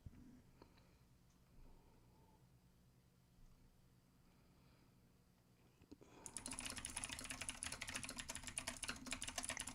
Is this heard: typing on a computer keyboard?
yes